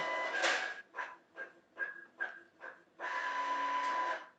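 An office printer runs a print job: a short whir, then a series of rhythmic mechanical pulses as the page feeds through, ending in a longer steady whirring pass, moderately quiet and close, with no talking.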